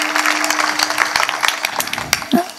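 A crowd at a Navratri kirtan gathering claps in a loud, dense patter of hands that carries on steadily and then thins near the end.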